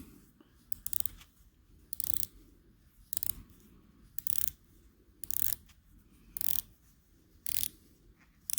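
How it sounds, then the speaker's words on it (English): The 120-click unidirectional bezel of a Casio Duro MDV-106 quartz diver's watch is ratcheted around by hand. Short bursts of crisp, close clicks repeat about once a second against quiet handling noise. "you also have a unidirectional bezel, 120 click bezel. So we'll just try to turn it here."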